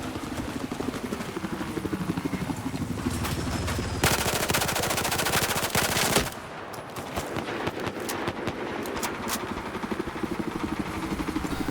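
Battlefield 4 multiplayer combat on Paracel Storm with a helicopter and gunfire: rapid bursts of automatic fire over a continuous rotor-and-engine drone, including a loud, dense volley midway, with no voices.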